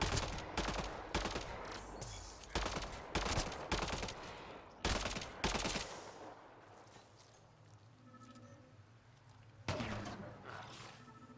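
Rapid bursts of gunfire crackle in a Mass Effect Andromeda firefight, with dense volleys for several seconds, a lull with faint background combat, then another close burst near the end.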